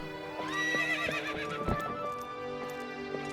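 A horse in the video game Twilight Princess HD neighs loudly with a long whinny, followed by a few hoof clip-clops, with no voices.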